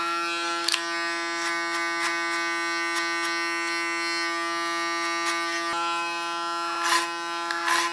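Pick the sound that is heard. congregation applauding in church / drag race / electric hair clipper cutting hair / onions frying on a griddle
electric hair clipper cutting hair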